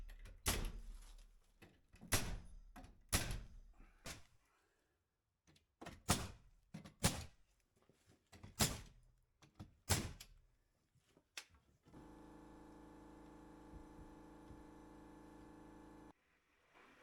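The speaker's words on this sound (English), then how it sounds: "It's a door. It's not pretty," A newly built door in a barn home's added bathroom room is opened and shut repeatedly. Sharp knocks and thuds come in irregular clusters, followed by a steady, flat hum for a few seconds.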